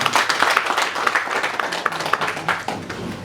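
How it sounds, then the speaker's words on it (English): An audience claps in steady, dense applause at a church gathering in the UK, sustained and fairly loud, with faint voices underneath. "let's give them a round of applause"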